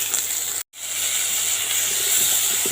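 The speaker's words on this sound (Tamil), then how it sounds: "இப்போ இந்த ரெசிபிக்கு தேவையான உப்பை சேர்த்து நல்லா வதக்கிக்கலாங்க." Tomatoes sautéing with salt in a pan give a steady, close sizzling hiss that cuts out for a moment, then resumes at the same level.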